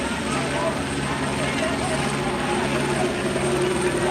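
A helicopter hovers overhead above a crowd and line of deputies in riot gear near a South LA sheriff's station, a constant whirring drone of rotor and engine holding steady throughout.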